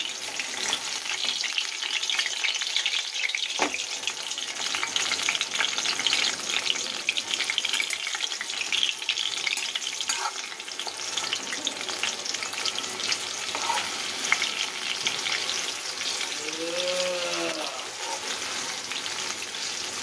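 Banana flower fritters (mochar chop) fry in a pan with a steady, close crackling sizzle that runs the whole time, broken by a few louder pops and a brief clatter of stirring near the end.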